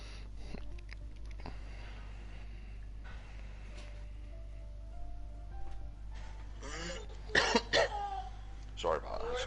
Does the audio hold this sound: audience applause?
no